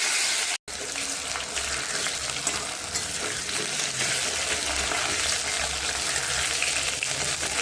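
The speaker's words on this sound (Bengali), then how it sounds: "আলুটা এখন ভেজে নেব লাল লাল করে।" Cut potatoes fry in hot oil in a kadai, giving a loud, close, steady crackling sizzle that runs without a break apart from a brief dropout near the start.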